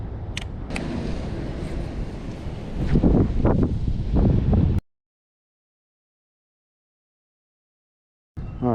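Gusty wind buffets the microphone at a lakeside bass fishing spot, a loud continuous rumble with rustling bursts that cuts out abruptly partway and returns briefly at the end.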